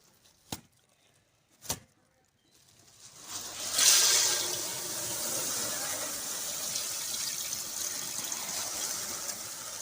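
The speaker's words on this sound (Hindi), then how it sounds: "थोड़ा सा पानी डाल दिया हमने।" Water pouring into a pot for zarda syrup, a steady gushing stream starting after two sharp knocks and running on evenly to the end, fairly close.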